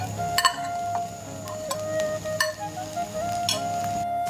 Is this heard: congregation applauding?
no